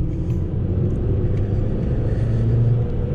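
Fiat Panda cruising along a quiet side road, its engine a steady low rumble with tyre and road noise, close and continuous throughout.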